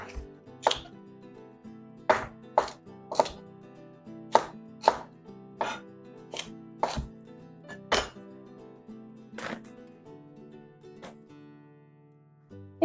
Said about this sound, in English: Cut it down around the stem. And then we'll just slice it up.